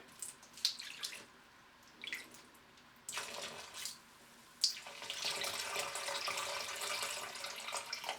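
Warm water pours and gurgles into a blocked sink drain, starting with a few splashes and drips, then a steady close trickle running down the drain.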